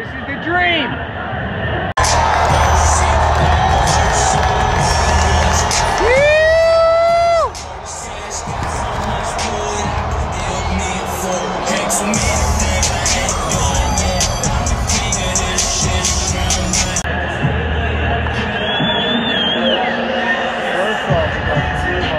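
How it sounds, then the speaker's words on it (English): Loud stadium crowd cheering and roaring at a Philadelphia Eagles NFC Championship game, a dense continuous wall of shouts and whoops with excited voices talking close by throughout. "Look at that crowd!"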